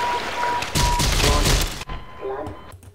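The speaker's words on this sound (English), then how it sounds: "Something was firing at me." Gunfire from a weapon in the video game Half-Life, a dense burst of rapid shots lasting about a second, loud and close, followed by a few fainter thuds and impacts.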